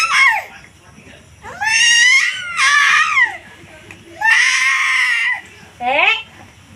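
A child screams and cries nearby in loud, high, wavering wails, in about five separate bursts with short quiet gaps between them.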